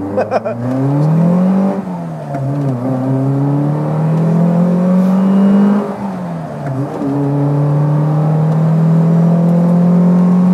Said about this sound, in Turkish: Böyle çok yüksek sesli bir go-kart'a biniyorum sanki.